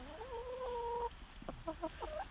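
Chickens cluck softly nearby, a drawn-out warbling call followed by several short clucks, faint over background noise.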